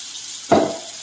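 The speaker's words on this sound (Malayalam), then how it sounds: "ഇതിലേക്ക് ഞാൻ ഈ അരച്ച് വെച്ചിട്ടുള്ള നാളികേരമാണ് ഒഴിച്ചു കൊടുക്കുന്നത്." Ground coconut paste poured into a simmering dried pony fish tamarind curry: one short, soft wet plop and slosh, close and isolated, with quiet background before and after.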